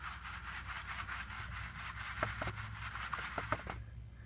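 Fingers stir gold paydirt in a pan with a continuous close gritty rubbing and swishing, a few sharper scrapes of grains and pebbles near the end, no voices.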